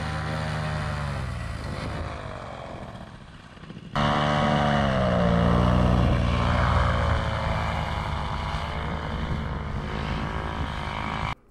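A paramotor trike's engine and propeller run steadily on the ground during a test, a loud buzzing drone that changes pitch and jumps louder partway through before cutting off abruptly at the end.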